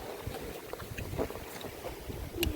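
A boat moves on the sea off Shivarajpur beach, its steady wash and churn mixed with blustery wind buffeting the microphone, close and continuous throughout.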